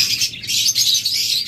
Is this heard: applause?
no